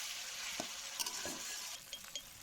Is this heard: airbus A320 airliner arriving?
no